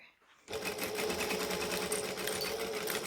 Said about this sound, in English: So I'm going to back stitch, I'm on a joining stitch, and off we go.